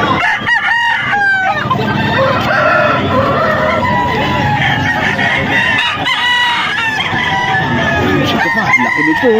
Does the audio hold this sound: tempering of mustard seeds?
no